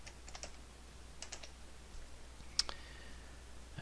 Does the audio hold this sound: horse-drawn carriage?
no